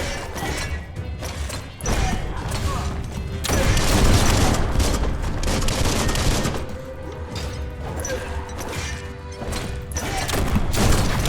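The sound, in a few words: gunfire from shooting an enemy in the video game Biomutant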